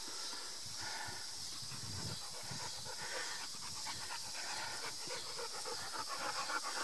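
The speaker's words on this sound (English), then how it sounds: "You probably hear the doggy panting in the background." Rapid, breathy dog panting close up, a continuous hissing rhythm with no voices.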